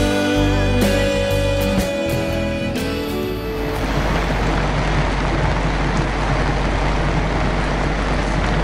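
Steady rain hisses and patters across a sailboat deck in Tonga at dawn while the anchor is hauled up, a constant broadband wash with some low engine or winch tones fading out early.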